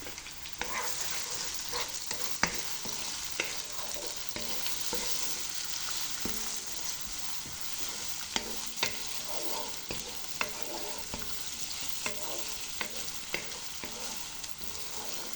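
Garlic and onion sauté in a pan as a steady, close sizzle, with scattered clicks and scrapes of a utensil stirring through the full stretch; no one speaks.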